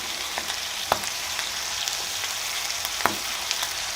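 Chicken frying with white pepper and nutmeg for Aleppo-style rice with chicken and nuts gives a steady, close sizzle and hiss, broken by a couple of sharper crackles.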